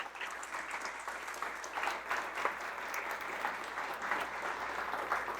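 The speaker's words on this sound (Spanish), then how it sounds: "démosle un fuerte aplauso a Dios" A church congregation applauding together, a steady, dense wash of clapping from many hands that holds evenly for several seconds with no speech over it.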